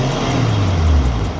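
A Toyota Chaser car engine idling smoothly and steadily up close, a loud low continuous rumble with no voices.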